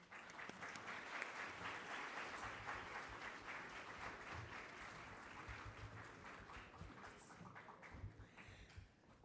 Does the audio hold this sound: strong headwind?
no